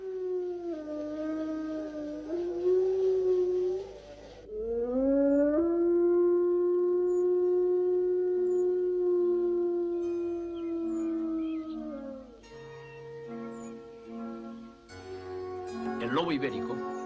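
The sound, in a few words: Iberian wolf howling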